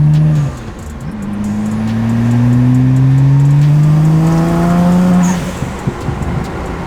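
A BMW 335i with the N54 engine sits on launch control, its note rising steadily in a loud, sustained rev that holds close, then cuts off with a few sharp pops.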